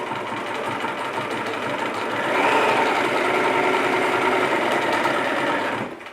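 Bernina sewing machine stitching a fancy decorative stitch, a loud continuous whirring motor hum with rapid needle clatter that rises slightly in pitch midway and then stops abruptly, no talking.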